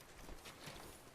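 Horse hooves clip-clop in The Last of Us, a steady walking rhythm of muffled thuds set in a dense, noisy game soundscape.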